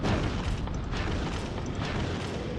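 Grenade explosions in the video game Factorio sound as dense, continuous rumbling booms with bursts and pops layered over one another, loud and sustained throughout.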